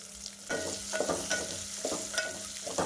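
Sliced onion frying in a pan with black pepper and cloves for soybean khichdi, a steady sizzle punctuated by repeated rhythmic stirring scrapes, close and alone.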